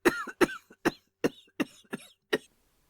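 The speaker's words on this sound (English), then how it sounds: "Her cough choked her" A woman coughs repeatedly, seven short harsh bursts in an uneven rhythm, close and fairly loud, with nothing else around.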